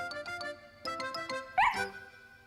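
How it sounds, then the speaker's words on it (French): A cartoon dog waiting outside barks joyfully, a quick run of bright yips followed by a higher excited bark, clear and close against a quiet background. "Snuffy, qui attendait dehors, aboya joyeusement."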